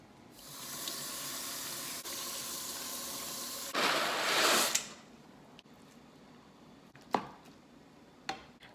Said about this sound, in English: I'm going to get the romaine cleaned off and then cut that up for the salad